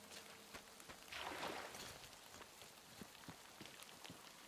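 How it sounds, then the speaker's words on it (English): Rain falls in the video game Metro Exodus as a soft, steady patter with scattered drip ticks and a brief swell of hiss, heard fairly faintly with no talk. "I've only just actually realised it's just raining."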